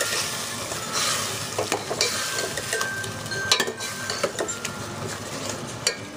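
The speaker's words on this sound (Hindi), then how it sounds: "4 to 5 मिनट्स हम भून लेंगे" Ridge gourd sabzi sautés in a pan with a constant sizzle. A spoon stirs and scrapes against the pan in irregular knocks and clinks, up close and with no voices.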